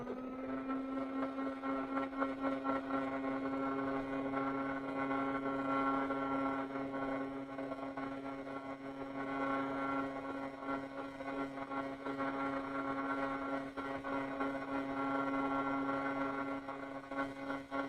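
Heat tool drying metallic watercolour paint on paper, a steady whirring drone with a strong tonal hum that holds nearly constant for the whole stretch, close and moderately loud with no talking.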